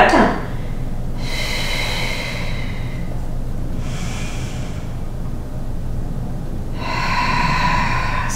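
Breathing through a Pilates roll-up with a ring, with three audible breaths, a long inhale, a shorter exhale and another inhale, close to the microphone over low room hum.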